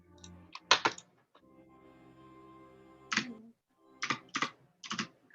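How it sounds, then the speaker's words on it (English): Rapid, loud keyboard typing close by, clicking in several short bursts separated by brief pauses, with a faint background hum. "Loud clicking, Mackenzie. We can hear your keyboard."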